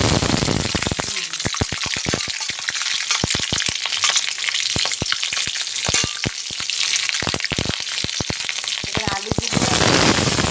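Whole spices for a Bengali potato curry crackle and sizzle in hot oil in a kadai, a loud continuous fry with a rapid scatter of sharp pops and spits, nearby and without talk.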